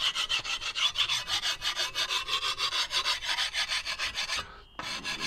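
Rhythmic rasping strokes of a file or sharpener over the rusty blade of a garden edging tool, steady repeated scrapes close up, with a short pause before the strokes resume near the end.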